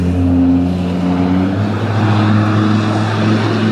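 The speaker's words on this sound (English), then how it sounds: "That truck is going very fast down a downtown street" A truck speeds down a downtown street in the Yellowstone Valley, its engine a steady, loud rumble with a low droning hum throughout, close by and without voices.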